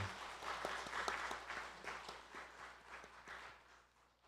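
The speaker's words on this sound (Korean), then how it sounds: "우리 박수를 한 번 더 축복하겠습니다" Church congregation clapping during a Sunday worship service after a hymn, a soft, steady round of applause that gradually fades toward the end.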